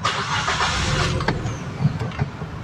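A car engine turns over and runs close by, a rough mechanical noise with a few sharp clicks; the car's auxiliary fan motor is not working.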